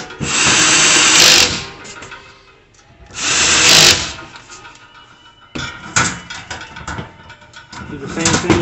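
A power drill drives screws into a Char-Broil Performance Series four-burner gas grill during assembly, with two sustained loud whirring runs and then a rougher, uneven stretch of motor noise and handling clatter.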